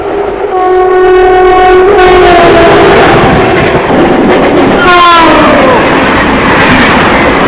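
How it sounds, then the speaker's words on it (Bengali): A Tarakeswar local train passes close by, its loud horn sounding twice in long harmonic blasts over a steady, heavy roar of wheels and carriages. "তারকেশ্বর যাবে এই ট্রেনটা, এই যে তারকেশ্বর লোকাল"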